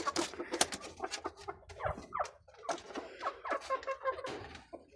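Backyard chickens cluck in a busy, overlapping flurry of short calls, close by and fairly loud, with brief pauses between bursts.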